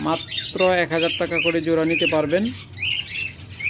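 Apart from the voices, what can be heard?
caged pet birds chirping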